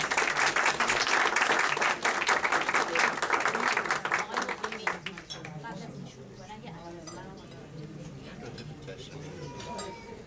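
An audience gives a dense, loud round of applause for a performance of Afro-Venezuelan music. The clapping tapers off after a few seconds into room murmur, with voices talking and faint clinks of dishes.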